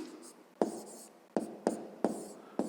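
A pen writes on paper while a math exercise is worked out, giving soft, close scratching strokes with several sharp taps as new marks begin.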